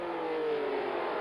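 A 1979 Formula One Ferrari brakes hard at the US West Grand Prix, its high engine note whining and sliding downward in a brief, loud, steady blare with no voices.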